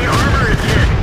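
Tank cannon fire in World of Tanks during a battle against a Stuart, a loud, dense boom with heavy low-end that fills the whole short moment.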